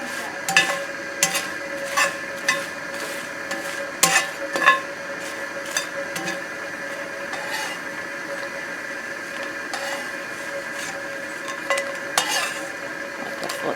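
Spam migas cook slowly over low heat in a pan, with a soft continuous sizzle and a utensil scraping and clinking against the pan at intervals, close and clear with no talking.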